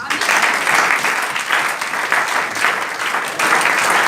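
Congregation applauding during a church service, sustained clapping from a crowd that swells and ebbs in waves, fairly close and loud.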